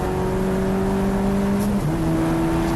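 Race cars, a BMW M3 and a Z4, run down the back straight at Snetterton, with a loud sustained engine drone whose pitch steps down mid-pass like a gear change, continuous and close.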